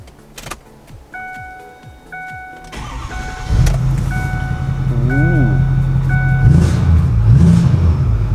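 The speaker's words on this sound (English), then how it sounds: "It's a pretty badass diesel truck. So, listen to this puppy purr." Chimes and clicks, then a Ford F350 diesel truck engine cranks and starts, settling into a deep rumbling idle with a few revs; a voice briefly exclaims.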